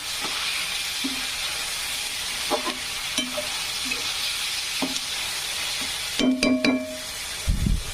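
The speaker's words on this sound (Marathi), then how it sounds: "छान तळू द्यायचा कांदा।" Onion sizzles steadily as it fries in a pan for egg bhurji, a continuous hiss broken by a few light scraping stirs near the end.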